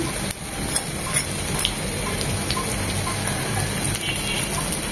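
Cauliflower and eggplant fritters deep-frying in hot oil, giving a steady bubbling sizzle with faint crackles and occasional light clicks of utensils.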